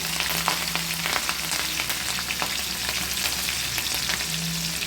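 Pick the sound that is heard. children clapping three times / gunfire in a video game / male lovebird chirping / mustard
mustard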